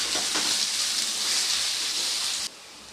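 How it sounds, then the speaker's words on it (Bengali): Onions frying hard in oil for Bengali mutton kosha, a steady loud sizzle that hisses evenly for most of the stretch, then drops abruptly to a softer, thinner sizzle near the end. "তো এবারে পেঁয়াজটাকে খুব লাল লাল করে ভেজে নেব।"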